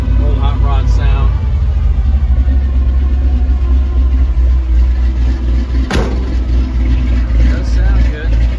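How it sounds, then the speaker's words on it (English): A 1952 GMC 100 pickup's rough, steady engine with a gear drive idles loudly and close by with a low rumbling, hot-rod-like throb, and a voice briefly speaks over it. "Got a gear drive on it, gives you that little old hot rod sound."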